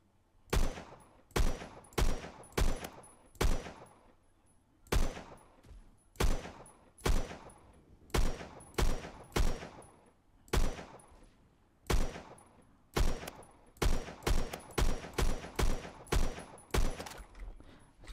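FAL rifle gunfire in the Roblox shooter Phantom Forces: sharp, loud single shots and short bursts cracking at irregular intervals, with brief pauses between volleys and no talking.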